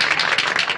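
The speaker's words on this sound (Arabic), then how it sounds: "تصفيق." At a party held to honour a newly discovered young singer, a burst of applause sounds as a short, dense, loud crackle of many hands clapping together, with no voices over it.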